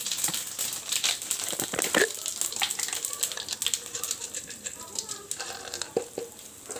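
Whole spices (cumin, cardamom, cinnamon) hit hot oil after potatoes are fried, crackling and sizzling steadily with stirring and scraping throughout, close and moderately loud.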